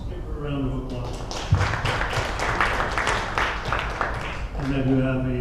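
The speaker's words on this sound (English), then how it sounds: "Let's give her a round of applause." Audience applause at an awards ceremony, a few seconds of scattered clapping from a crowd, moderately loud, with a voice speaking before and after it.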